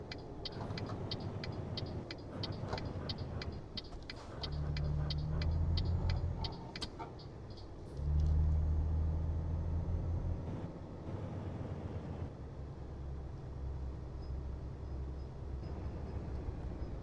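An engine rumbles in Euro Truck Simulator 2 as a car accelerates, its low drone swelling twice in loud surges under a steady ticking.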